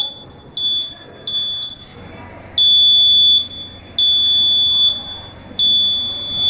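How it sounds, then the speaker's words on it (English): High, piercing beeps from an Arduino Uno infrared security alarm buzzer in a school lab, repeating in short bursts and then longer ones, loud over faint background noise. "the IR rays reflect back to the receiver which sends a signal to the Arduino Uno to trigger the buzzer"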